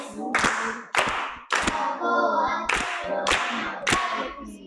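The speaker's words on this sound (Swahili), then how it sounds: "Makofi kwake." An audience claps in loud, broad bursts, roughly six quick rounds over a few seconds with short gaps between them, and voices mingle with the clapping.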